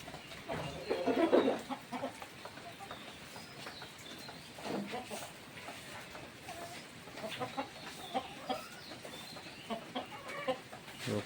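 Hens cluck and chatter repeatedly close by, in short irregular bursts from a free-ranging village flock of about seventy to eighty chickens, over an outdoor background.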